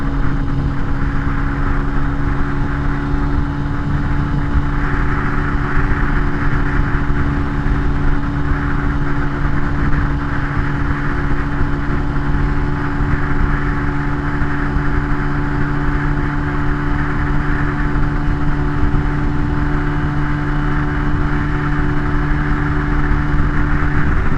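A 2022 Benelli TNT 135 motorcycle ridden at steady speed into a headwind, its small engine droning continuously with a constant hum and heavy wind rush throughout.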